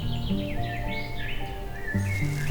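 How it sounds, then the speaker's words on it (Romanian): Birds chirp and sing among very old trees in a forest, thin calls scattered over a steady, dense background. "unde se aud păsările"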